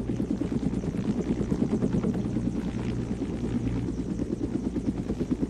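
In a video game, a helicopter's rotor chops in a rapid, even pulse with a steady engine drone, loud and close throughout, alone without speech.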